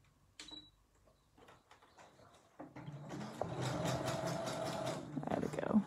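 A sewing machine stitching a yoga mat bag, starting with a few soft clicks and handling noises before breaking into a loud, continuous mechanical whirr of rapid stitching that runs to the end, close to the microphone.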